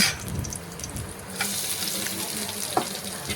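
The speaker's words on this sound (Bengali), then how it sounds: "রসুনটা নাড়াচাড়া করে একটু ভেজে নিয়ে আমি দিয়ে দেব কিছুটা পেঁয়াজ কুচি" Chopped onion tossed into garlic frying in a pan, a dense sizzle with scraping stirs and small clicks of a spatula, fairly close and continuous with no talk.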